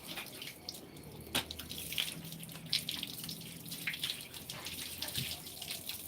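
Water sprays and splashes steadily from a broken pipe with a poorly seated fitting. Occasional drips and spatters ride over the continuous rush, and voices are faintly heard in the background.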